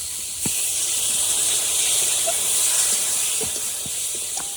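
Water poured onto a hot cooked spice mixture in a pan, giving a sustained loud hiss with a few faint clinks and stirring knocks, no talking.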